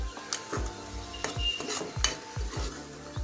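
Maharashtrian Malvani spice paste with tempering fries and sizzles in a pan for a raw cashew curry, with repeated scraping stirs every half second or so, close and steady, no talking.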